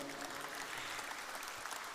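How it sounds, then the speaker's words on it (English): Continuous audience applause at a rugby sponsors' felicitation ceremony for St. Peter's College, many hands clapping at moderate volume in a steady wash. "Come on, put your hands together for AJ Medichem International."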